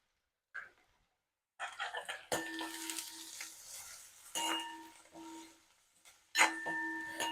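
Onions and ginger-garlic paste fry in a pan, with intermittent sizzling bursts and the scrape of stirring coming in waves, close and moderately loud, with faint tonal clinks between them.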